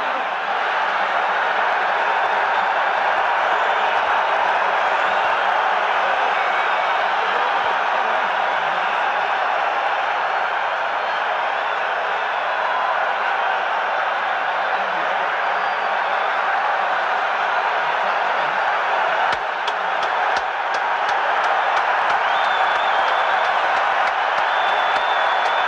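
A 53,000-strong rugby stadium crowd roars steadily in response to a haka, a dense, continuous wall of cheering and applause that holds level throughout with no clear individual voices.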